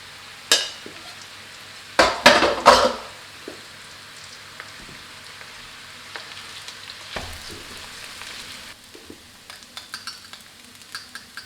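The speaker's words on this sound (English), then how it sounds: "Add in the rice and mix it in well with the black-eyed peas." Cooked rice and black-eyed peas are stir-fried together in a pan for Burmese golden fried rice: a few sharp scraping clatters early on, then a soft, steady sizzle with occasional light taps.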